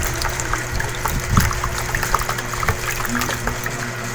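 Water gushes and gurgles steadily through a washing machine's drain hose as it drains, with small clicks and splashes scattered through the flow.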